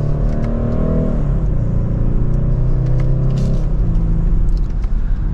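A 2025 BMW 430i Coupe accelerates hard in second gear in sport mode, its engine droning loud and steady with a rising pitch, a quick shift around the midpoint, then climbing again alone.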